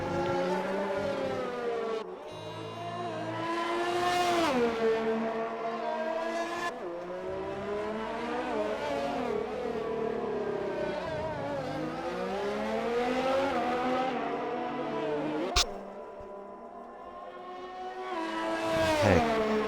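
Formula 1 race cars in an Xbox racing game, with high-pitched engines whining and rising and falling through gear changes as they pass. The engine noise is loud and continuous, with several cars overlapping and one sharp click.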